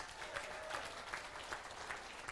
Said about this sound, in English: Give you yourself a warm applause.